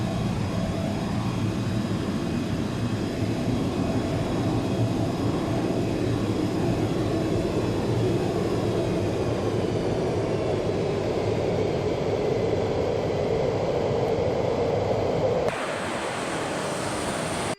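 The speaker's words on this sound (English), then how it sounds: "Let the plane speed up in the dive." A loud, steady roar of rushing air and engine noise builds as an F-15 jet dives in Microsoft Flight Simulator X, then cuts abruptly to a thinner hiss near the end.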